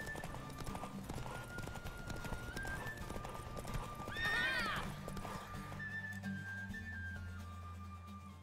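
Rhythmic clip-clop of horse hooves galloping in a race in The Witcher 3 over a steady game soundscape, with a loud horse whinny rising midway.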